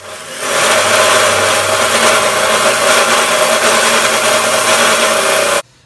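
A power tool cuts a steel piece about 22¼ inches long for a front dozer blade being built for a Massey 50 tractor. It makes a loud, steady grinding whine that starts abruptly, runs for about five seconds without a break, and then stops.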